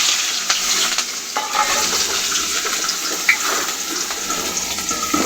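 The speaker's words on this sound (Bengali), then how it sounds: "এই যে জিরা সম্বার দিলাম, আর দিলাম কাঁচামরিচ আর পেঁয়াজ" Cumin, green chilies and onion fry in a pan for a thin shing fish curry, giving a steady, close hiss of sizzling with faint stirring scrapes throughout and no voices.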